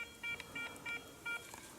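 Faint metal detector beeps pulse four times in a quick, even rhythm over low background noise, while digging in the Carpathians.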